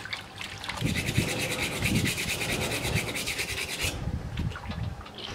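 Scrubbing out a stainless steel SS Brewtech mash tun with PBW in hot water, a close, rhythmic rubbing and scraping in repeated strokes, with a brief bright swishing passage.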